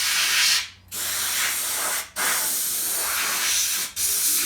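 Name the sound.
spraying rust protection wax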